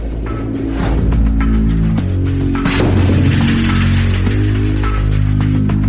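A heavy explosive blast tests a reinforced concrete bunker roof, with a loud, sharp boom breaking through midway over a sustained, dense, roaring background that fills the whole stretch.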